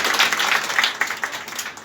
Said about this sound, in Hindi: इनके लिए एक बार जोरदार तालियां होनी चाहिए हमारे साथ